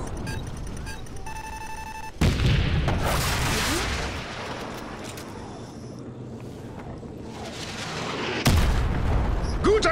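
Bursts of gunfire and heavy booms from a first-person shooter, Call of Duty Modern Warfare Remastered, loud and close with sharp onsets and a rumbling battle bed between shots.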